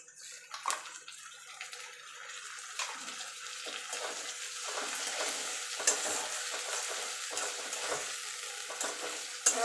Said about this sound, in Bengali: এবার ভালো করে একটু কষিয়ে নেবো যতক্ষণ আদা রসুনের কাঁচা গন্ধটা না চলে যাচ্ছে